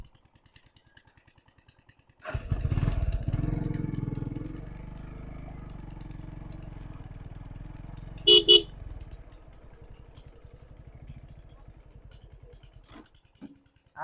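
A motorbike ride, with the engine starting up loudly, settling into a steady running drone, and two quick horn toots in the middle before it quiets down.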